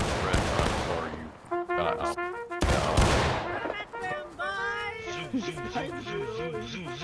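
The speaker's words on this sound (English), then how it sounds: "Open fire and charge." Musket volleys crack out in the Civil War video game War of Rights during a 150-player battle, with bursts of gunfire mixed with shouting voices and game audio, loud and close.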